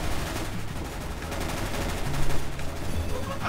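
A decoy grenade in Counter-Strike mimicking gunfire: a steady, rapid machine-gun-like rattle of shots running throughout, dense and fairly loud against busy game noise.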